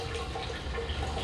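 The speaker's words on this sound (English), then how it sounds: "it's just now starting to trickle out" Water trickles and splashes steadily out of a 20x20 plate-and-frame beer filter at a brewery. The wet, hissing flow is continuous and fairly close, with no voices.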